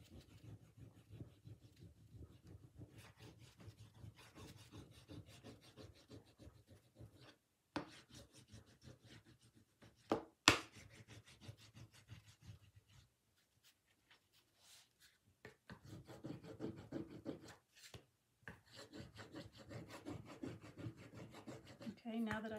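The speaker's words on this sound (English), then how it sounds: "So I'm just going to rub the wax all over the top" Wax is rubbed over a stained wooden toy wagon in repeated soft scratchy strokes, close and quiet, with a few brief pauses and sharper taps partway through, no speech.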